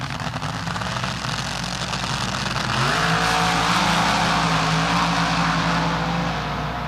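Roughly 2,000-horsepower Top Fuel dragsters at the 1976 NHRA Gatornationals drag race, their engines holding a loud, steady roar that climbs in pitch and swells partway through, with no talk over it.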